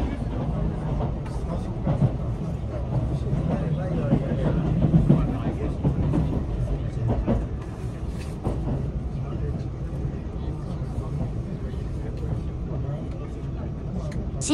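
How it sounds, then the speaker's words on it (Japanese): Limited express Inaji train on the Iida Line pulls into Shinshiro station in the evening, a steady low rumble of wheels and motor with faint clatter throughout, with voices underneath. "新城駅に到着しました。"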